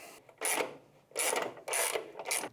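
Fender bolts on a 2024 Harley Touring being tightened with a ratchet, three bursts of rapid clicking separated by short pauses, close and clear.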